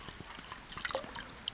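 Water poured generously over dried hiking food in a pot to soak, at an autumn wilderness camp in Lapland; a close, quiet trickle and splash lasting under two seconds, with faint clinks and no talk.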